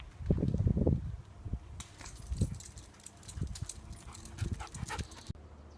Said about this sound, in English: This is actually just a local dog park that I like to take my dogs to.